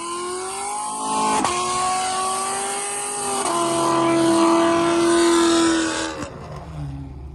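A loud car performs a burnout at a car meet, its engine revving in long rising and falling sweeps with abrupt shifts between pitches before the roar cuts off near the end.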